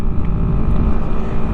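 A KTM 125 SMC R supermoto motorcycle's single-cylinder engine drones loudly at high revs, a thick, steady buzz with wind rushing over the microphone.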